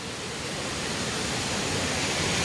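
Water rushes steadily close by at the edge of a crab-trapping spot, a dense, even, loud flow that fills the whole moment without pause.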